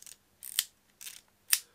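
Double-throw film wind-on lever of a Minox 35 GT compact camera, heard as four quiet, close mechanical ratcheting strokes in two pairs, each a short clicking sweep ending in a sharper snap.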